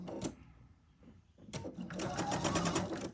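A sewing machine runs a quarter-inch seam along the diagonal edge of a fabric triangle for a quilt block, starting with a few stitches and then settling into a steady, close whirring hum with no voice.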